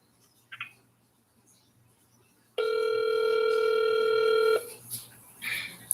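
Telephone ringback tone during a hospital call transfer: a steady electronic tone lasting about two seconds, loud and close, with quiet line noise before and faint clicks and rustle after.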